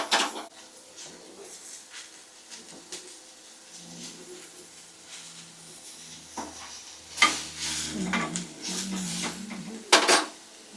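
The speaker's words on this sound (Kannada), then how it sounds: "ಈರುಳ್ಳಿ ಕೆಂಪಗಾಗೋವರೆಗೂ ಬಾಡಿಸ್ಕೋಬೇಕು" Onion and mint are stirred in a pan for vegetable pulao. A spoon clinks and scrapes against the metal in irregular bursts over a faint sizzle.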